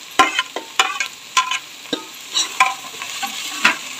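Finely chopped capsicum and cabbage are stir-fried for veg fried rice, with a spatula scraping and clattering in quick irregular strokes over a soft sizzle, close by and without speech.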